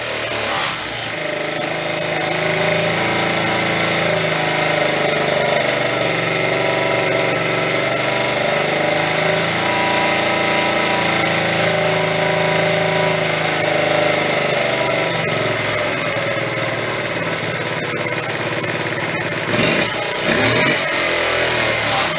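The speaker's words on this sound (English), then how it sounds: "Listening to how fast it returns to idle." A small restored Honda Z50 motorcycle engine runs loud and close for a long stretch, its buzzy note rising and easing back toward idle, with a brief rattle near the end and no voices.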